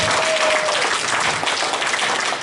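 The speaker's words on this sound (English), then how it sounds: "a round of applause for the wonderful job that you're doing with this community" Applause from a community board meeting audience, a dense steady wash of many hands clapping at once, fairly loud and sustained with no talking over it.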